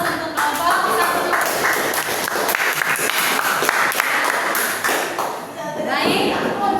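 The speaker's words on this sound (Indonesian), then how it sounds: "Beri aplaus untuk kelompok 1." An audience applauds a student group after its presentation in a classroom or hall, steady clapping filling the whole stretch at close range with a few voices mixed in.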